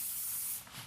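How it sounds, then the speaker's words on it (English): Cooking spray hissing onto a waffle iron in one short, close, continuous burst that tapers off at the end. "now I'm going to spray the waffle iron"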